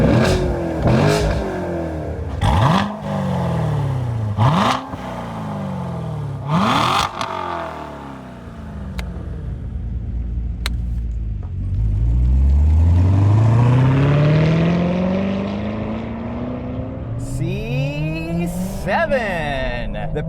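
A Chevrolet Corvette C7 V8 fires up and revs hard several times, engine pitch sweeping up and falling back, then settling into a long rising pull before more sharp blips; loud and close throughout.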